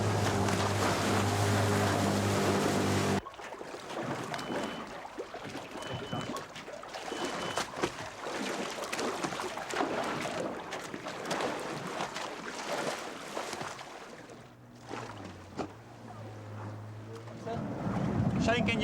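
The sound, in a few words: boat engines running at sea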